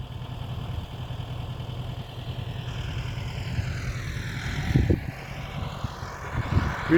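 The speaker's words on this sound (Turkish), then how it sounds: "Massey Ferguson 3085 ilaç sıkan traktörümüz" A steady low drone from a Massey Ferguson 3085 spraying tractor engine runs throughout, idling and rumbling, with a couple of louder thumps near the end.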